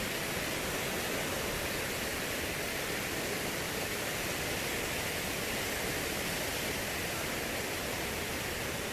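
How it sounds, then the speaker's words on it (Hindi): Mountain waterfall beside the Kedarnath trekking trail in the Himalayas, a steady, loud broadband rush of falling water that holds constant for the whole stretch with no voices over it. "बहुत ही सुंदर झरना आया है,"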